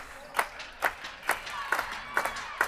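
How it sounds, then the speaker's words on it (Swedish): Spectators at a floorball match give the Karlstad team a round of applause, slow and evenly spaced, with about seven distinct claps of moderate loudness in a large hall. "Nu får de applåder"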